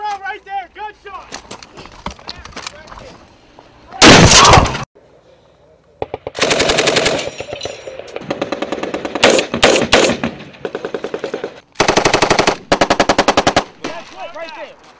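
Real combat gunfire crackles in loud machine-gun bursts separated by brief pauses, with shouting voices heard between the volleys.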